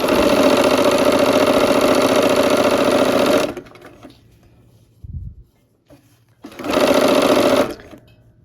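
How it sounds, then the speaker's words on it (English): Sewing machine stitching quilt blocks runs in a loud, steady close whir, stops for a few seconds of quiet handling noises, then starts again in a second shorter burst. "So let's just keep sewing."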